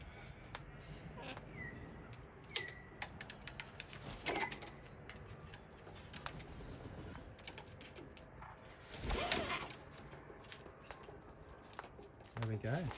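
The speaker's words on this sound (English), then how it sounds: "We've got our friends, the Long-billed Corellas, as well as our cockatoo friends." Long-billed corellas and cockatoos call outdoors in the Yarra Valley, Australia, with scattered faint squawks and chatter, scratchy clicks and one louder burst partway through.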